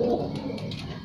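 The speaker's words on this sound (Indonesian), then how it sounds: "Burungnya." A pigeon coos close by, a short soft throaty burble over a low background murmur.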